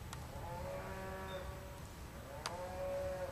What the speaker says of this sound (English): The cows agree.